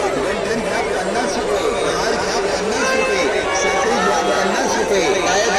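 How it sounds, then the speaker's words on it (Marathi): Dense crowd chatter fills a busy village fair at the Kalbhairavnath festival in Chikhli Talegaon, Pune, with many overlapping voices forming a continuous babble. "भरपूर आज गर्दी आहे मित्रांनो"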